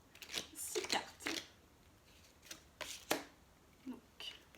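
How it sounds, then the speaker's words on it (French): Tarot cards being shuffled and drawn, a series of crisp papery riffles and flicks in uneven bursts, close and fairly quiet. "Allez-y, on va prendre 6 cartes."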